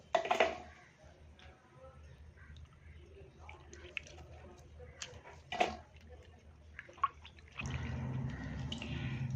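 A few scattered drips close by as boiled soya chunks are squeezed by hand, then a steady trickle of water running down for the last couple of seconds.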